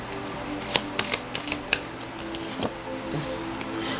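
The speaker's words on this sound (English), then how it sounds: "We're still going to pull cards." Tarot cards being shuffled and pulled from a deck, a soft continuous rustle broken by several sharp card snaps and taps at close range, with no talking.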